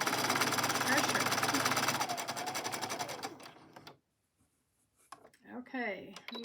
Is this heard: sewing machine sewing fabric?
yes